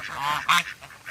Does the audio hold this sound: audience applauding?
no